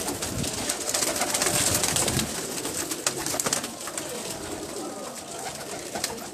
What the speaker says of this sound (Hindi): एक और कबूतर का आपको शौक करवा रहे हैं आमिर भाई